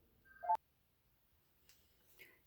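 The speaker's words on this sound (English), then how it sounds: "Oh, there goes my phone." A mobile phone gives a short electronic notification tone, a brief bright chime heard once in an otherwise quiet room.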